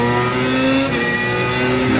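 An open-wheel race car engine in iRacing holds a loud, steady high-pitched drone as the driver gets on the power early out of a corner, the tone rising slightly with acceleration.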